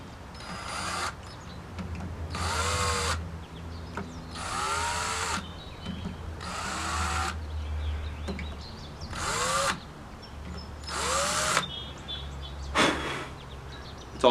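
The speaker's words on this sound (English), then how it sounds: "I start out with a drill bit that is the exact same size as the hole that's drilled into these plates" A power drill bores screw holes through metal door hinge plates while installing French doors, several separate bursts of whirring, close and clear, with quiet pauses between.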